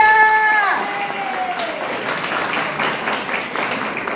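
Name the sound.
audience applause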